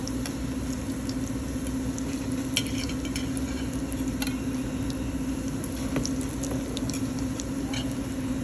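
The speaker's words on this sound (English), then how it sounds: "now that the oil's hot, obviously they're gonna cook even faster" Breaded eggplant slices frying in hot oil, a steady close sizzle with scattered sharp pops and crackles throughout, alone without talking.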